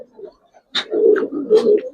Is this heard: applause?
no